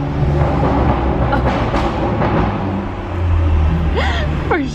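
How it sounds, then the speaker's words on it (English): Loud car engine at Disneyland, a heavy, continuous low rumble that stays close and strong throughout, with a brief voice rising over it near the end. "For sure the loudest car in Disney."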